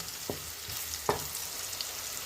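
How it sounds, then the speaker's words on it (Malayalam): Bitter gourd fries quietly in a pan over low heat, a soft continuous sizzle broken by a couple of brief scraping knocks as the pieces are turned. "നമ്മുടെ പാവയ്ക്ക് ഏകദേശമൊക്കെ മൂത്ത് തുടങ്ങിയിട്ടുണ്ട് അപ്പോൾ ഇത് ഇടയ്ക്കിടയ്ക്ക് ഇതുപോലെ ഒന്ന് മറിച്ചിട്ട് കൊടുക്കുക"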